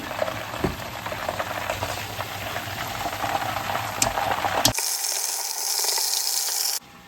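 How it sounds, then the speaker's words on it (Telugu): Chicken frying in a pan for a large batch of chicken fry piece biryani gives a steady, close crackling sizzle for several seconds, then turns into a thinner, brighter hiss near the end. "మనకు పక్కన చికెన్ ఫ్రై అవుతుందండి"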